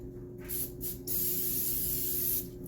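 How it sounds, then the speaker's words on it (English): Several short hissing bursts of cooking spray onto a pan, then a longer steady spray lasting over a second, close by with a low background hum. "we are going to be spraying the pan"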